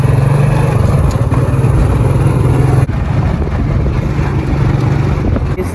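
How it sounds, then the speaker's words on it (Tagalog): A motorcycle engine drones loud and steady while riding at midday, with a continuous low rumble and wind rush close to the rider, shifting slightly partway through. "sakay ako motor"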